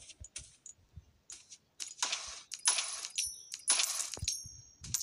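Coins clink in the Roblox horror game Doors, giving bright metallic jingling bursts that rise and fall in several clusters after a few faint clicks, fairly close with no talking.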